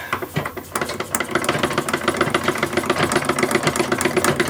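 Wilma, an 1870s sewing machine, runs with a loud, fast, steady mechanical clatter that starts in short bursts and settles into continuous stitching close by.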